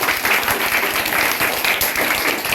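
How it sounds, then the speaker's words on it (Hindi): Loud, dense applause from a quiz-show audience fills the whole stretch, a steady wash of many hands clapping with no pauses. "सो दोनों के लिए गाइस प्लीज जोरदार तालियां।"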